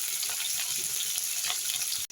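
Spiny gourd and potatoes fry in hot oil with an even, close hissing sizzle that cuts off abruptly at the end.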